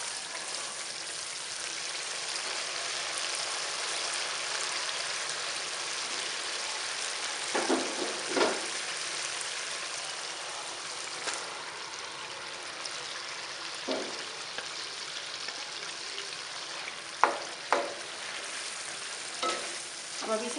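Boiled drumstick (sohanjna) pieces frying with tomato masala in a pan, a steady close sizzle with occasional stirring clinks and scrapes, no talking.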